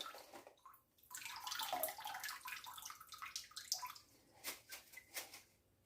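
Water drains from a jar of red peppers being made into homemade hot sauce, a close splashing pour that gurgles and trickles, then breaks into a few separate splashes and drips.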